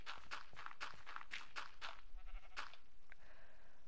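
Minecraft sheep bleat repeatedly in a quick series of short, close bleats that are fairly loud, followed by quieter game ambience with no speech.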